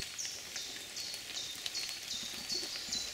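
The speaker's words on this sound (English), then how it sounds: "Rain's abated a bit." Light rain falls steadily outdoors as a soft, continuous hiss, with faint, brief high-pitched calls repeating above it and no voices.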